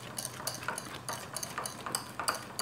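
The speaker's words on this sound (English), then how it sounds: "So I'm gonna whisk everything well here, and everything, all the ingredients are mixed in together" Cream puff filling ingredients whisked together in a bowl for durian cream puffs, a steady, rapid scraping and clinking of the whisk, close and continuous with no voice.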